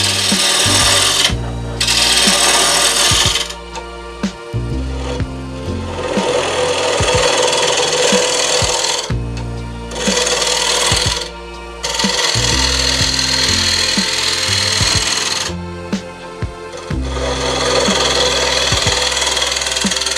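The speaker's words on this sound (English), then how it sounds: "The first step is to true up the blank and remove the wax coating." Oak bowl blank being trued up on a wood lathe, with a gouge scraping and rasping loudly against the spinning wood in repeated cuts broken by brief pauses, over a steady motor hum.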